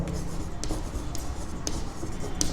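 A teacher writes on a board during a maths lesson, making a steady scratchy stroke sound with occasional sharp taps as the chalk or marker meets the surface.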